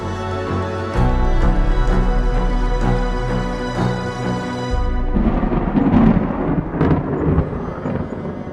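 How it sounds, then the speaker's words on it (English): Thunder rolls in a deep rumble accompanying a reading of the Exodus account of the third day at the mountain, a sustained low roar for several seconds followed by rougher crackling, with no voices. "thunder roared and lightning flashed"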